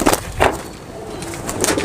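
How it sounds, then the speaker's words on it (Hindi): Rajasthani pigeons of Bajre and Kalsare breeds, including a female, coo softly up close, with a few low throaty calls amid light rustling and background noise. "देखें दोस्तों किस दर्जा अच्छी कबूतरी है"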